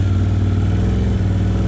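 A new tractor's engine runs steadily, a loud, even low-pitched rumble with a regular throb, close by and with no talk.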